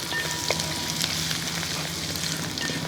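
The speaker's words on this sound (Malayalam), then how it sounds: "ഇഞ്ചിയിട്ട് ഒന്ന് ഇളക്കി" Chopped ginger sizzles steadily in a hot pan with beef for a Kerala-style beef fry, a continuous frying hiss broken by a few scraping stirs.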